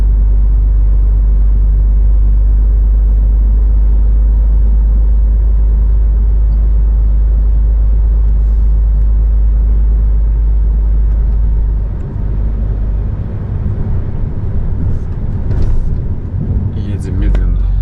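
A car moves slowly with a heavy, steady low rumble close by, easing off slightly near the end, while brief noises from outside break in toward the finish.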